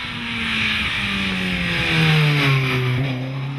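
A rally car engine revs and accelerates during a stage of the Jersey Rally, its pitch rising and falling steadily, loud and close with no voices.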